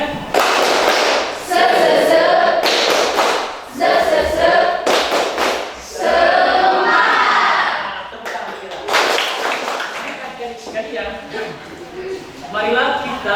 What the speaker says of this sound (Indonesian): Ayo silakan tepuk semangat.